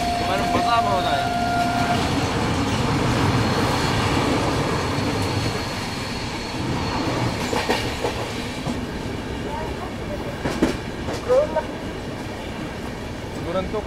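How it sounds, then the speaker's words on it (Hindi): The 22210 Delhi Mumbai Duronto Express speeds through on its rails in India, heard from aboard in first AC: a loud, continuous rumble with rhythmic clickety-clack wheel beats and occasional squeals, while someone talks over it. "दुरंतो का हजरत निजामुद्दीन रेलवे स्टेशन में भी हॉल्ट नहीं है और यहाँ में तेज रफ्तार में स्किप कर देंगे।"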